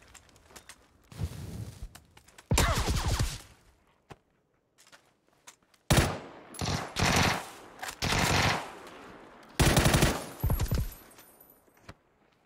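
VSS rifle gunfire in PUBG: several separate bursts of rapid shots, some close and loud, others quieter, with pauses of near silence between volleys and faint clicks in the gaps.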